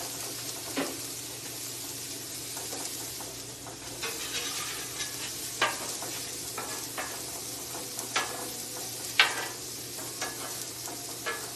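Smashburger tacos frying on a griddle with a low warm side and a searing side, a steady close sizzle broken by scattered pops and spatula taps.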